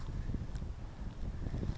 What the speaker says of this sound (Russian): снег усилился, ветер тут вихри закручивает